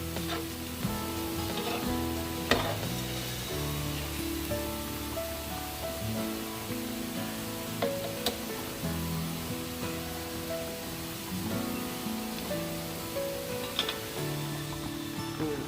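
Rice porridge boils in a pot on a gas stove, a steady bubbling simmer with soft popping and occasional small clinks, continuous and fairly quiet throughout.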